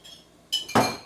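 Quinoa mixed with soy sauce and hot sauce in a bowl: a quiet stretch, then two close clinking, scraping bursts of utensil against dish, the second louder and fuller.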